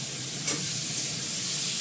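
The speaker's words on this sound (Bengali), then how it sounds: "ভালো করে লাল করে ভাজবো" Potatoes frying in mustard oil with cumin and fenugreek give off a steady, even sizzle. A small spatter pops near the start, and no one speaks.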